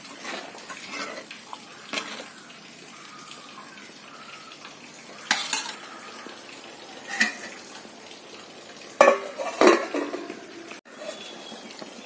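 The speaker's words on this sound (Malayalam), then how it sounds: "ഇനി നന്നായിട്ട് ഇളക്കി ഒന്നുകൂടി ഇതെല്ലാം കൂടെ ഒന്ന് തിളപ്പിച്ചെടുക്കാം." Mackerel tamarind curry gravy stirred and simmering in a pan, a soft continuous bubbling hiss broken by a few sharper knocks and scrapes of the spoon against the pan, close by with no talking.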